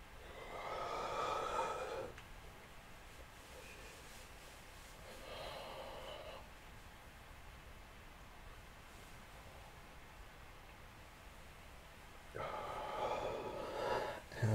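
Slow, deep breathing during a yoga session, three long, airy exhales well apart, close and soft against a quiet room.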